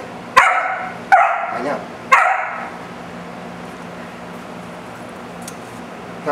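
A puppy gives three sharp, high barks in quick succession, close by, followed by quiet room noise.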